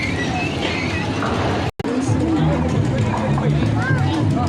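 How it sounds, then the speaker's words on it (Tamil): Busy fairground ambience with a small ride train rumbling along beneath steady crowd chatter and voices, briefly cutting out for a moment midway. "நாங்கள் இப்போ ட்ரெயினில் போக போகிறோம்."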